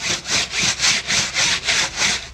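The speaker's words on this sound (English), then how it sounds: "we're just using a broom. We're coming through and scrubbing" A broom scrubs the floor of an Intex pool coated with bleach, giving rhythmic loud bristle strokes, about eight even back-and-forth swishes close by with no talking.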